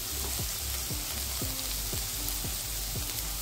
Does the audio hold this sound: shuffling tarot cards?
no